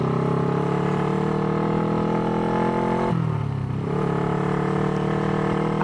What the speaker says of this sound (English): The Honda CB350s and Honda CB360s have a distinct sound to them.